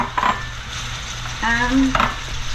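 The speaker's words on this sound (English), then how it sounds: "This is some red pepper, they're a little bit sweeter than the green pepper. And you're just adding and you're stirring." Sweet red pepper pieces stir and sizzle in hot oil in a pan for a lobster sauce, a steady close frying hiss with a few utensil scrapes and brief faint squeaks.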